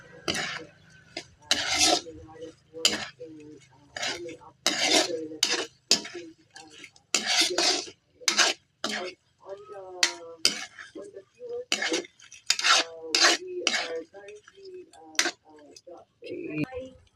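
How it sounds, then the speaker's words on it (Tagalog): A utensil stirs shrimp through ketchup sauce in a pan for a Cantonese-style dish, giving scattered clinks and scrapes of metal against the pan beneath near-continuous talking. "So, haluin lang natin, oh."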